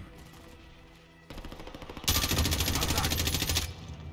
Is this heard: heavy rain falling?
no